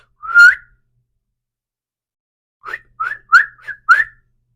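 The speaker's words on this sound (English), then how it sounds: "So he whistles." A person whistles: one short sliding note, then a pause of about two seconds, then a quick run of five short chirping notes, clear and close against silence.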